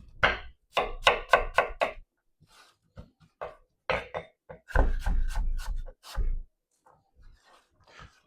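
A knife cutting apple slices on a board for apple cinnamon crepes, a quick run of five sharp chops followed by scattered, irregular cuts and taps, close and clear.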